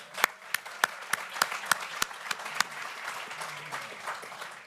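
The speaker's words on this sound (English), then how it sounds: "let's please give our silver sponsors a round of applause" Sparse, distinct claps at a sponsor-recognition event for fundable companies, a handful of separate sharp hand claps spaced irregularly over a quiet room, thinning toward the end.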